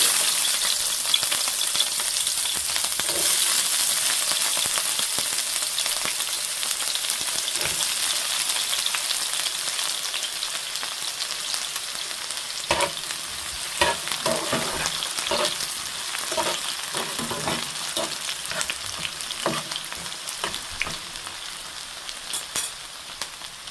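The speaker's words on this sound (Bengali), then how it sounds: "এখন আমি পেঁয়াজগুলো দিয়ে দিব।" Onions sizzle and fry in hot oil in a pan for spicy saag, a loud continuous crackling hiss with occasional stirring scrapes and clatters, no voices.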